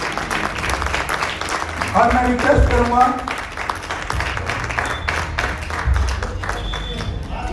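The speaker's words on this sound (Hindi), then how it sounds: "जोरदार तालियों के साथ स्वागत करना चाहूंगा राजेश यादव जी का" Crowd applause welcoming a guest onto a stage at an Auretics event, dense clapping that swells and fades while someone speaks over it on a microphone.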